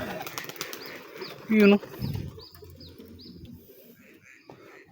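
Pet pigeons take flight with a flurry of flapping wings, near and brief, followed by fainter wingbeats and coos while a person speaks briefly over them.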